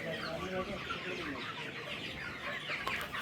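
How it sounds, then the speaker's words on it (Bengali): Dense flock of thousands of young chickens clucking and peeping together, a continuous close chatter of many birds with no pauses. "এখানে মুরগির কোনো অভাব নাই"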